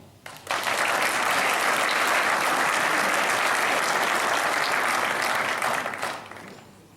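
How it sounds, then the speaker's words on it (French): Applause from the audience at a district sports association general assembly as a medal is presented, starting abruptly, holding as a dense even clatter of many hands for about six seconds, then fading out. "Évidemment, sous vos applaudissements."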